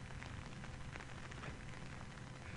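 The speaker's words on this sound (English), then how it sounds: "it's pouring with rain, and we're holding up an umbrella" Heavy pouring rain drumming on an umbrella outdoors, a dense, loud and constant patter close by, with no voices.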